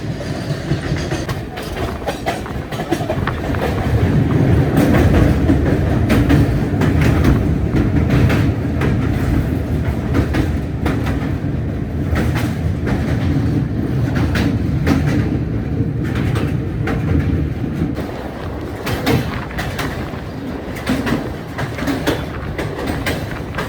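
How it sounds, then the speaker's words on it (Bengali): Nandankanan Express (train 12816) rolling into Cuttack station on the Puri route in rain, a loud continuous rumble with rhythmic clickety-clack of wheels over rail joints heard from inside, no talking. "ট্রেন এখন ঢুকছে কটক স্টেশনে"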